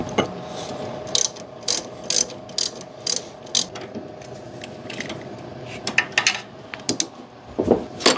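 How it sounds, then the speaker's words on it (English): Ratchet wrench clicking while loosening a power steering line on a 1993 Chevy Blazer, a series of sharp metallic ratchet strokes in quick bursts, close and fairly loud. "get a wrench in there and crack that line"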